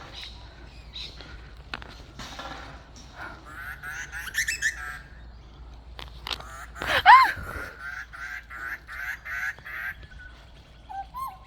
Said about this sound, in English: Itu burung magpie itu teman-teman, ingin menggangguku, menggigitku.